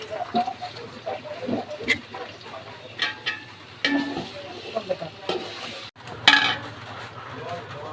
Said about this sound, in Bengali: দেখো আমি এইভাবে বারবার নাড়তে থাকবো